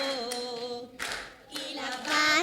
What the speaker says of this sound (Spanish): aplaudir, mover los brazos, tocar el bajo